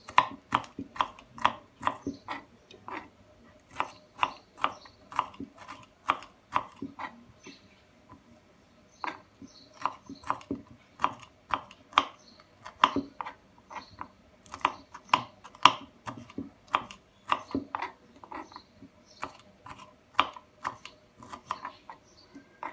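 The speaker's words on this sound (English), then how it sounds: "Let's cut it down all the ingredients and let's begin." Paella ingredients chopped with a knife on a cutting board: quick, steady runs of crisp close-up chops with short pauses between bursts, no voices.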